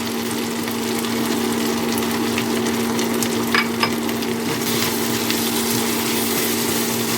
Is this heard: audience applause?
no